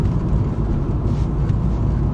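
Ford Focus Mk1 engine straining at around 3,000 RPM up a steep hill at 40 mph, a loud, steady low drone heard from inside the car, no talk.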